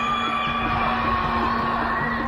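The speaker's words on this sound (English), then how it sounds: "Citizens screaming and wailing from their windows after endless days of a total lockdown." Shanghai residents shout and wail from their apartment windows during a total COVID lockdown, loud yells echoing between buildings over a continuous drone.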